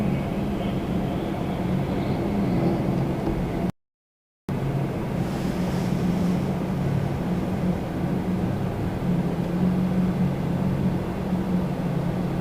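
A Falcon 2000LX business jet landing at Toronto Pearson gives a distant, steady low rumble that is broken by a brief dropout, then continues with a faint whine mixed into the wind.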